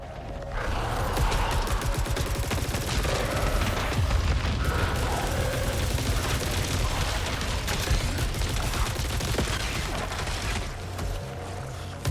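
Dense, continuous weapon fire in the sci-fi shooter Saros, rapid shots layered with booms and mechanical whirring, loud and unbroken for over ten seconds.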